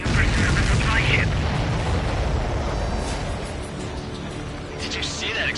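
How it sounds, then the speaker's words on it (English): An aircraft is shot down and explodes in the Ace Combat flight combat video game, a loud rumbling burst that fills the clip with a sustained roar. "Did you see that explosion? Looks like that's one of them down."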